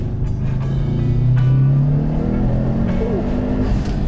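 A Subaru WRX STi engine revving up, the pitch climbing and holding in a steady drone from inside the car on cold, icy roads, loud and continuous.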